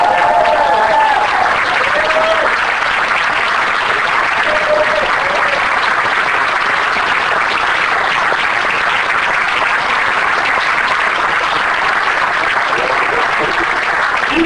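A convention crowd at Monsterpalooza 2013 gives loud, sustained applause to two actors joining a 2001: A Space Odyssey panel, with a few cheers and voices rising early in the ovation.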